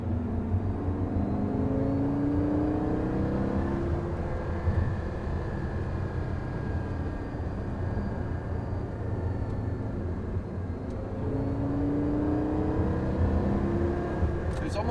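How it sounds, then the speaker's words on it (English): A Porsche Carrera GT's engine and exhaust drone continuously on the move, a dense low rumble with rising and falling tonal sweeps as revs change, close and steady for the whole stretch. "the engine makes, that note being put through the exhaust system and coming out the other side, how beautiful that sounds"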